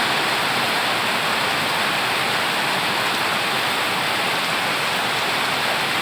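Heavy rain pours down steadily outside a rural Thai house, with water running across the road in front; a dense, even roar of falling water continues unbroken and close, with no talk.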